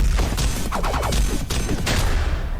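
Rapid gunfire effects crackle in quick bursts from a fan-made animation set to a soundline, loud and dense, with clustered shots piling over a busy mix.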